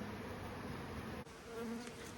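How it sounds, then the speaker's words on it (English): Honey bees at a small nucleus hive in late September buzz in a faint, continuous drone, heard close and alone without any voices. "There's lots of bees in our colony, though"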